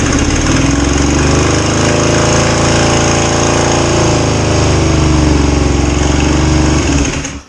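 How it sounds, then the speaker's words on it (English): A 2005 Kawasaki Ninja 250 engine, just reinstalled and with an overly tight throttle cable, runs loud and close at high revs, holding a steady buzzing drone that rises slightly, then cuts off at the end. "the reason it's revving up, Matt, just so you know, is there's too much"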